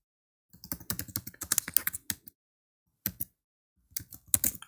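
Computer keyboard typing in short bursts of quick clicky keystrokes, separated by brief pauses and a couple of isolated taps, close and fairly quiet with no speech.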